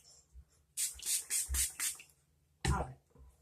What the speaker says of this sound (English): now I'm going to add a little bit of my spray here, the Cactus Rose Water Volume Spray